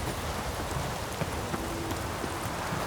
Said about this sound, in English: What an inhospitable place. The cold, the rain,